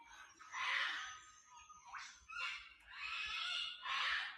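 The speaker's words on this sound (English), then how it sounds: "Those loud birds, Carla, they're white cockatoos, sulphur-crested cockatoos." Sulphur-crested cockatoos at Narrabeen Lagoon at daybreak give harsh, raspy screeches in four drawn-out bursts, moderately distant with brief gaps between calls.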